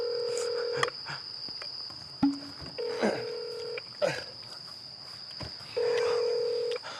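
A mobile phone call rings out unanswered in a countryside setting, with several separate ringback tones sounding at intervals, clear and close, alongside faint insects and brief clicks.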